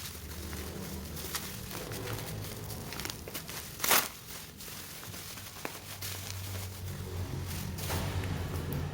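Packaging of an RCB steering damper crinkles and rustles during unboxing, with soft handling noises, one sharper crackle partway through and a low hum underneath.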